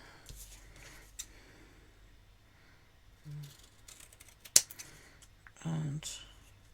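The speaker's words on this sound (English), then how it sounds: "And then I'm just going to cut around it roughly." Long-bladed scissors cut roughly around a piece of card paper for a floral birthday card, giving a few quiet, scattered snips and rustles with soft handling sounds between them.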